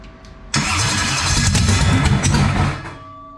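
A car engine on a dyno cranks briefly, then catches and fires up loudly, running at a steady rumbling idle for a couple of seconds before settling down.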